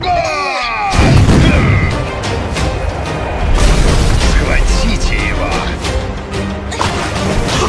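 Loud booms and crashing blasts of cannon fire, with shouting voices over the noisy, chaotic barrage.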